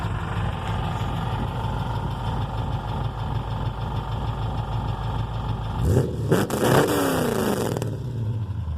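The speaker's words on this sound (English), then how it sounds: "Here, rev it up for me." A junkyard Dodge Charger with a new exhaust and carburetor problems idles with a steady, rumbling burble, then is revved hard twice in quick succession, loud and close, before settling back to idle.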